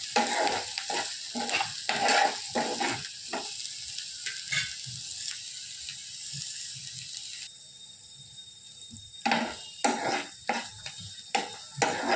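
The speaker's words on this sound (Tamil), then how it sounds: "உப்பு சேர்த்து நல்லா காய்கறி எண்ணெய் பிரிஞ்சு வதங்கி வரணும்" Vegetables sauté in oil with salt, with bursts of sizzling and the scrape of a spoon stirring against the pan, broken by a quieter stretch of soft frying before the stirring returns.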